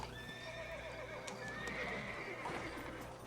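Horse whinnying in the Red Dead Redemption video game, a loud neigh rising over steady game ambience with clip-clop hooves, no talking.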